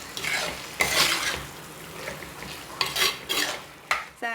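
Chicken pieces cooking in a pan for a pepper chicken curry, giving soft frying sizzle broken by several sharp clinks and scrapes of a utensil stirring, close and fairly quiet.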